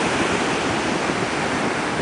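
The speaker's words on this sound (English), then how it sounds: "And the waves are really rolling in." Ocean surf at Manchester State Beach, California rolls in as a continuous loud broadband roar of breaking waves, filling the whole clip with no voices.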